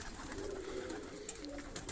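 Pigeons kept in a loft coo softly in a low, rolling murmur, a few overlapping calls repeating through the short stretch amid light background noise.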